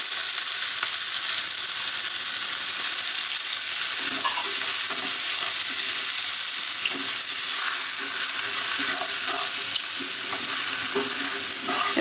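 Amchur, garam masala, crushed pepper and salt sauté in a pan, a steady close sizzle with scraping stir strokes throughout and no voices.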